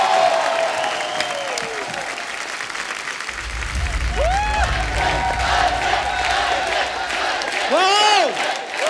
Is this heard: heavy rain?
no